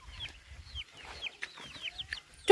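Soft, scattered clucks from chickens close by, with a sharper squawk near the end; no talking.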